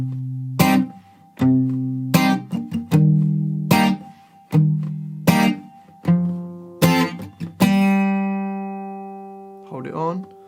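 Guitar intro of a song, with strummed chord hits and short muted stabs in a stop-start rhythm, ending on a held ringing chord, then a brief voice.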